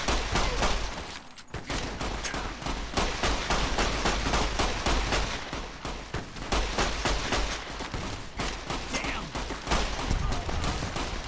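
Rapid bursts of gunfire from a firefight with power gangers in Fallout New Vegas crack steadily for over ten seconds, dense overlapping shots with a brief pause near the two-second mark.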